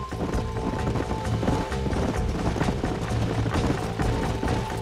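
Horses gallop in the Xbox One game Red Dead Redemption, a loud, fast, continuous drumming of hooves close by with the rumble of the chase underneath.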